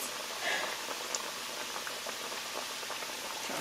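Beef empanadas frying in hot oil, giving a steady, dense crackling sizzle throughout, close and moderately loud with no clear talk.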